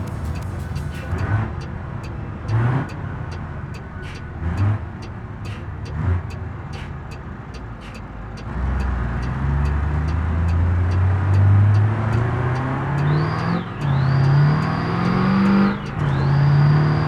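A truck engine in the BeamNG driving game accelerates hard, its revs climbing in rising steps with gear changes and a high whine, loud and steady throughout.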